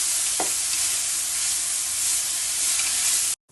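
Onions and long red pepper stir frying in a pan for a sweet potato dish, a loud continuous sizzle with a brief scrape of stirring early on, cutting off abruptly at the end.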